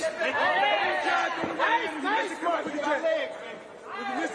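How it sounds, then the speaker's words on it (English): Voices from boxer Fulton's corner shout instructions in a subdued, sold-out Tokyo arena, with busy overlapping calls carrying steadily over a quiet crowd. "you can actually hear in the midst of the fight the instructions coming from the corner of Fulton"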